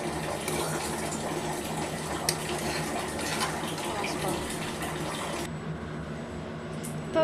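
Water gushes steadily into a pan while making rava kesari, a continuous close pour that cuts off abruptly near the end.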